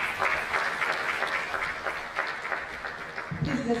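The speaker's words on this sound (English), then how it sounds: "Please let's keep clapping." Audience at an oral healthcare event in Nigeria claps steadily for an arriving speaker, fairly faint and roomy, ending with a short burst of other sound.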